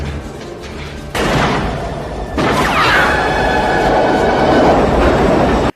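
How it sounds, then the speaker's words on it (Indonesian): In a tense film scene, two trains speed past each other in opposite directions. There is a loud, continuous rush and roar of passing rail cars, which jumps in intensity twice and carries a squealing, metallic edge before cutting off abruptly. "harus berada tepat di tengah-tengah dua kereta yang sedang melaju dari arah yang berlawanan"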